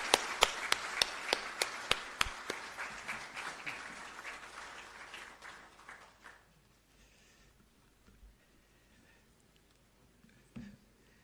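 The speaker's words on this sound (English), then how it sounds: "Let's give him a round of applause." Audience applause at the swearing-in of Ghana's new Chief Justice at the Presidency: a burst of sharp, fairly close claps that thins out after about six seconds, leaving scattered faint claps and a quiet room.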